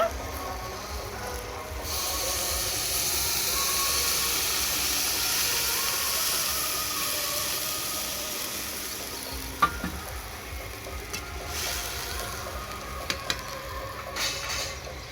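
Stirred potatoes hiss and sizzle in a pan after a little water goes in, a steady, close steamy rush that eases midway, with a few sharp utensil clicks near the end.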